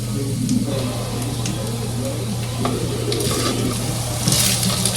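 Shrimp fried rice sizzles and crackles steadily in a hot pan, with occasional clinks of a utensil stirring, close by.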